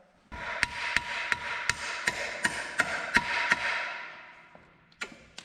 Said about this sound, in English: Now you want to knock that out. Let me grab a hammer.